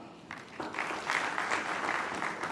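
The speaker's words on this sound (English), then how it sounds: "please, round of applause" A crowd breaks into applause, swelling quickly and then holding a steady, full clapping that fills the room.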